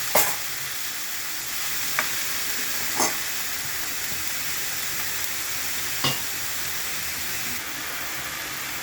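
Leafy greens (shak) fry in a pan with a steady sizzle and hiss, broken by a few sharp stirring scrapes at irregular moments; no voices.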